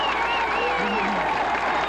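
A crowd at a 1985 high school football game applauds and cheers steadily from a distance while a voice talks over it.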